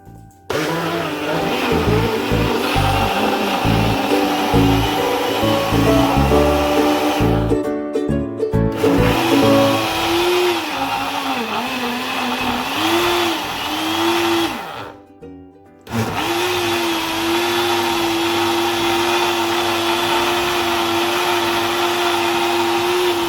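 A Fakir Sportic blender making a smoothie whirs loudly and steadily, its motor pitch shifting as contents churn, with two short breaks where it stops and restarts.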